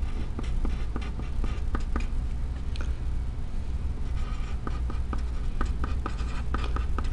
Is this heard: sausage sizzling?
no